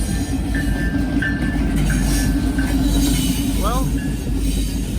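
A Norfolk Southern freight train rolls past close by, with a steady heavy rumble, clattering wheels and short high wheel squeals, while someone speaks briefly over it.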